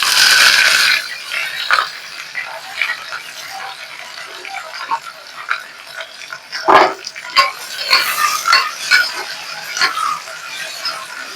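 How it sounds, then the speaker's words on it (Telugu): Onions fry in hot oil for a green pea curry, opening with a loud sizzle that settles into quieter crackling, broken by scraping stirs and sharp clanks of a utensil against the pan. "ఇప్పుడు ఉల్లిపాయలు వేసుకోండి."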